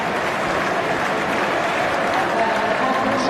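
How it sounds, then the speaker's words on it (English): A football crowd in the stands gives steady, continuous applause as Middlesbrough substitute Greeny leaves the pitch during a Championship match. "Receives polite applause for his efforts."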